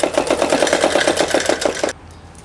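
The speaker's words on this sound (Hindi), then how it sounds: "इस पे लंबी सिलाई लगा देंगे।" A sewing machine runs a long line of stitches through salwar fabric, a fast, even mechanical clatter close by that stops abruptly near the end.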